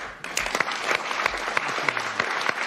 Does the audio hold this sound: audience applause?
yes